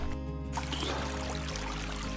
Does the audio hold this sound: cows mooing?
no